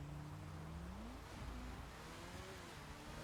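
Motorbike engine in GTA 5 drones steadily with a rising pitch sweep partway through, continuous and fairly quiet with no talk over it.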